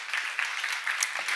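Congregation applause at a church seminar, a brief patter of clapping from a seated crowd, moderate and steady for about a second.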